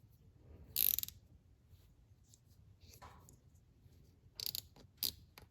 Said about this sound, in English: I'm going to try a zip tie.